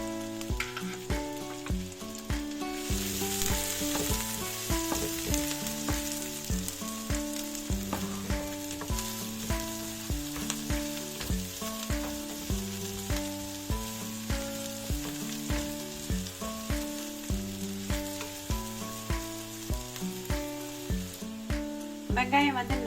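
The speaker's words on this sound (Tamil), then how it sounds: "எண்ணெய் சூடாயிடுச்சு. இப்போ வெங்காயம் சேர்த்துக்கலாம்." Onions fry with cinnamon, cloves and cardamom in hot oil for an amaranth-leaf biryani, giving a steady, dense sizzle. Regular stirring clatters across it, and a voice talks faintly underneath.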